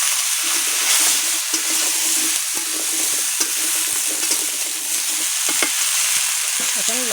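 Raw pumpkin pieces are stirred and fried in oil left from frying fish, alongside cumin and bay leaf, making a continuous loud sizzle broken by repeated sharp scrapes and clacks of a spatula against the pan.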